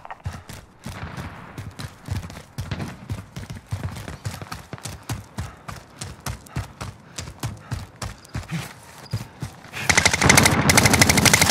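Video game gunfire on a new map, rapid bursts of shots in an irregular rhythm, loud and close, with a louder dense burst near the end.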